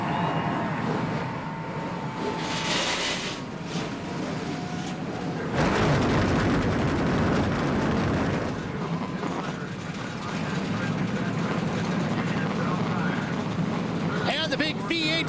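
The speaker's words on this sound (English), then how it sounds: "V8s rumble to life" V8 stock car engines firing up and rumbling together at an ARCA race at Toledo Speedway, a dense, loud, steady roar that surges partway through, with a voice talking over the noise.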